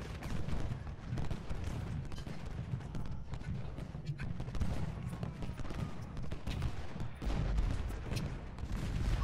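Dense, continuous musket volleys and canister blasts from a Civil War battle in Ultimate General: Gettysburg, a steady loud crackle of gunfire with heavier booms mixed in throughout.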